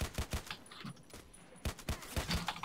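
Quick pistol shots in the video game Contract Wars, fired in two fast bursts of several sharp, fairly quiet reports with a short pause between them.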